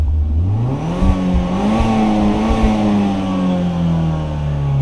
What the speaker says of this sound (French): Je vous fais écouter un petit peu le son à l'échappement.